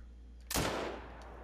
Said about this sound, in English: that looked like a good shot